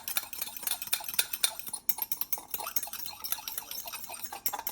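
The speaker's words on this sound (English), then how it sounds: "So now we want to whisk this little bit together." A whisk clinks and scrapes rapidly against a bowl, mixing a small amount of mixture with cold water in a quick, steady, fairly soft rhythm.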